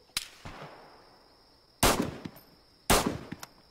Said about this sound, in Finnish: Osui, joku ampui tuota päähän tuota.